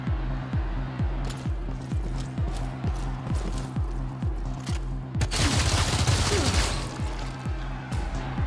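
Rapid regular bursts of gunfire repeat in a steady rhythm during a video-game fight in Showgunners, loud and close, before a noisy rushing crash takes over near the end.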